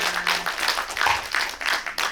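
Audience members at a small film festival talk session applaud a cinematographer, with a short burst of dense clapping that rises and falls in waves.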